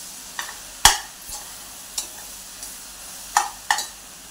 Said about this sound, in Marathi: आता हे चांगलं मिक्स करायचं.